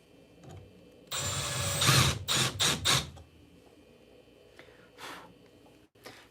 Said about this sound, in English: I'm gonna try maybe drilling out a little bit more.